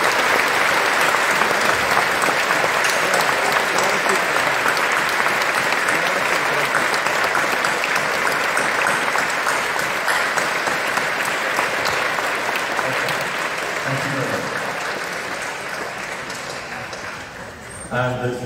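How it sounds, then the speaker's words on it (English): A large audience gives sustained applause at the opening ceremony of the International Mathematical Olympiad in Oslo, a loud, dense roar of clapping that runs long and gradually fades toward the end. "Would you applaud to signify your agreement?"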